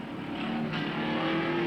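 A race car engine on a 1993 raceway screams at high revs, a sustained, loud, whining tone with a slight pitch climb as the car pushes around the track, no voices over it.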